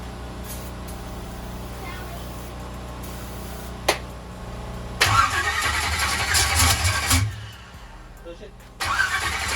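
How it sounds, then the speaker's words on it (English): A small engine fitted with a big turbo is cranked and fires, running roughly with a surging burst of engine noise that drops back, then rises again near the end, while a person talks over it. "And then we'll crank this thing up, and we're going to try to make a little bit of boost."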